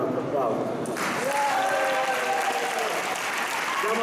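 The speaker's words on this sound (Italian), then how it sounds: "gli faccio un altro applauso" Audience applause at a poetry slam: a dense wash of clapping fills the room, with a voice speaking over it as it continues.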